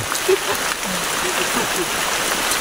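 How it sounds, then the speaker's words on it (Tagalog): Steady rainfall hisses evenly throughout, a constant wash of drops on surfaces, with a faint murmur of voices in the background. "Kasi umuulan."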